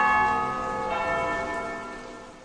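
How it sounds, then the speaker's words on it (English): A church bell tolls at noon for the Angelus, a single resonant ring with a long shimmering hum that slowly fades away, heard alone without voices. "When you hear the noon bells tolling, it's time for Angelus"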